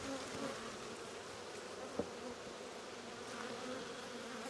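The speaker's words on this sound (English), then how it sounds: "These are Russian bees from a local beekeeper." Russian honey bees in an open hive during an apiary inspection, a dense steady buzz from many insects close by, with one brief soft knock partway through.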